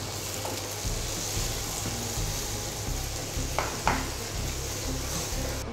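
Beef kofta with medium tomatoes and chopped green chilies sizzling and frying in a pan, a steady close crackle with a few brief stirring scrapes partway through.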